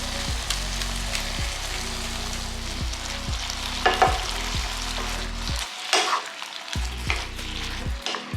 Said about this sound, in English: Let it sear on one side, then we'll flip it.